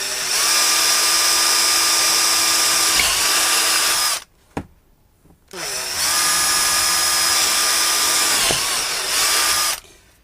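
A handheld power drill runs in two long, loud, close whining bursts with a brief pause between them, the pitch dipping slightly as the bit loads up.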